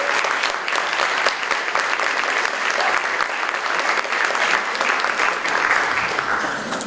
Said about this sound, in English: Let's keep that round of applause going